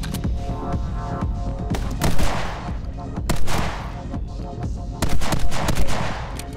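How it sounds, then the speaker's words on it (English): Rapid sniper rifle fire in the side-scrolling action game My Friend Pedro, a dense run of loud shots and booms that keeps going over a steady bed of game music. "At least the sniper rifle is pretty rapid fire."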